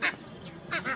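Farm ducks feeding, some of them on water, give two loud honking quacks, one at the start and one near the end, close by with quieter bird noise between.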